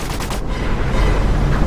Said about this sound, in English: There's gunfire going on all over the place.